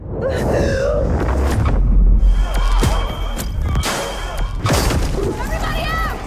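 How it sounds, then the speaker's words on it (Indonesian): Booming, crackling energy blast effects from Halo artifacts roll and rumble loudly with shattering bursts, mixed with dramatic voices and gasps throughout. "Kedua artefak itu pun kembali mengeluarkan ledakan energi"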